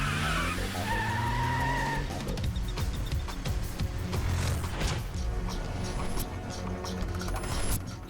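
A car turns sharply and skids in a Hindi-dubbed action film, with a long tire squeal at first giving way to engine roar and dense, loud, continuous action-scene noise.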